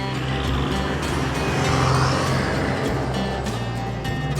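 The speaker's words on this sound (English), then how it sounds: "let's get in the car and get going." A car drives along a 150-year-old 4x4 track in Australia, its engine and tyre noise rolling along steadily and close by for a few seconds, with no talk.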